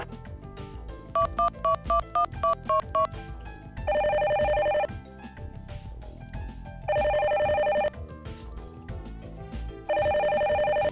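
Repeated electronic telephone ringing in The Silver Case video game, a set of pulsed beeping rings followed by three longer sustained ring bursts at steady intervals over quiet background music, loud and clear with no talking.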